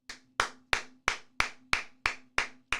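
Eight sharp, evenly spaced hand claps in a steady beat, close and crisp, each with a short ringing tail and no voices.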